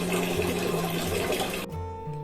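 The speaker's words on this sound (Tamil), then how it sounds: "தண்ணி திறந்து விடு தம்பி" Water runs hard and steady from an opened tap for a bit under two seconds and then stops abruptly, leaving a quieter hum behind. No one speaks.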